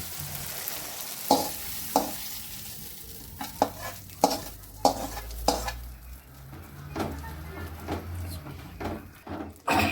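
Chow chow vegetable kootu is mixed in a pan, with repeated sharp scrapes and knocks of a spoon against metal over a soft, low sizzle.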